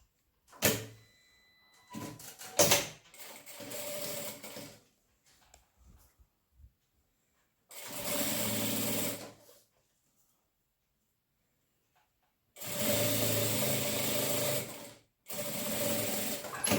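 Sewing machine stitching a clear crystal plastic cosmetic bag, running in several close, loud bursts of a few seconds each, separated by quiet pauses and some handling clicks at the start, with no talk.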